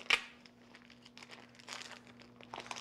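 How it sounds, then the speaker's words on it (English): Plastic wrapping being peeled and crinkled off a wheel of Manchego cheese, with a sharp tearing crackle at the start followed by quieter, irregular rustles, close by and with no talk, over a steady low hum. "make sure that I get this piece of cheese out of the plastic"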